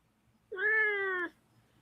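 An indoor cat gives one clear, drawn-out meow to be let out through a window, close and loud, in a quiet room with no talking over it.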